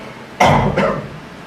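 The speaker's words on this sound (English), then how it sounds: "So move away to cough and it doesn't matter, it's still loud" A single loud, close cough with two quick bursts, heard alone against a quiet background.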